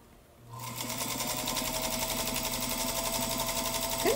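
A sewing machine starts up after a quiet moment and runs at a steady, fast, even whir with a rapid needle chatter, close and continuous until a brief squeak at the end, without talking.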